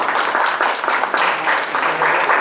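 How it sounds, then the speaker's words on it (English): Audience applause at a Dallas Southern Pride conference event, a steady wash of clapping from a crowd that stays loud and even for a couple of seconds. "Y'all clap it up for that."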